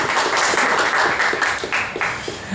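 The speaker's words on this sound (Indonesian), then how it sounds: "Tepuk tangan dulu for Coach Jovan." A small group claps for a football coach, a fairly close, moderately loud patter of hands lasting a couple of seconds before tapering off.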